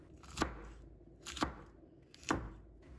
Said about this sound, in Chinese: 再改刀切成小块